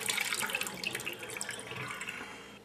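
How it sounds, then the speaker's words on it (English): Warm water is poured from a teapot into a sink, a continuous splashing gush with bright droplet spatter that tapers off gradually, close and alone without voices. "I left the water in the teapot for 2 or 3 minutes, dumping it in the sink"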